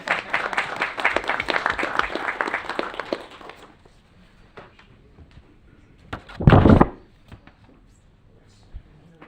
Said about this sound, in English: You all can clap now.